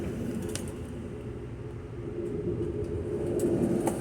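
Rumbling ride noise inside the rear business car of Amtrak train P090 out of Savannah, Georgia, a steady low roar of wheels on rails with faint rattles, continuous and close, no voices.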